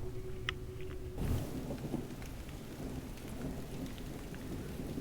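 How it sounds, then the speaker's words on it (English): A thunderstorm plays in the video game Curse of the Dead Gods. A sharp thunder crack is followed by a low rumble, then steady, hissing rain carries on at a fairly quiet level. "This time, I'm actually recording the storm."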